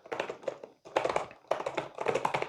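Close keystrokes on a DOQO AluHub keyboard come in quick bursts of tapping, with several short pauses between clusters of clicks and no talking.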